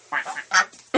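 Ducks kept for eggs quack in a quick series of short, nasal calls, close by and fairly loud, several bursts in about a second.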